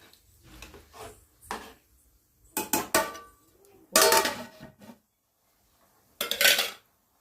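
A metal tawa griddle pan clatters into place over a pot for dum cooking biryani: four separate bursts of metallic clanks and scrapes with quiet pauses between them, close by and with no talking.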